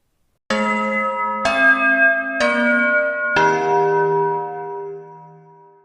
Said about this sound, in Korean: 사교시 종이 울렸다.